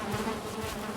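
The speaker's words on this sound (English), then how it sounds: "Let's see how our bees are doing. Oh, we have beehive." Bees hum steadily around a full beehive in Valheim, a steady, close insect drone holding for about a second with no voices over it.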